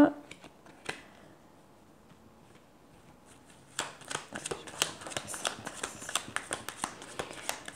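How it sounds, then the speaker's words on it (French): Tarot cards are shuffled and handled at close range, with soft flicks first and then a quick burst of crisp slapping and riffling, and a light tap as a card drops. "j'ai une carte qui est tombée"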